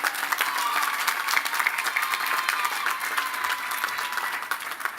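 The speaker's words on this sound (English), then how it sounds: "A round of applause for our faculty." Sustained applause from a commencement audience honoring the faculty at Lehman College's 50th graduation ceremony, a dense, steady wash of many hands clapping throughout without letting up.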